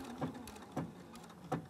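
Quilting sewing machine from the 3300 series tying off a stitch, with three evenly spaced, soft mechanical thumps and clicks close by in a quiet room.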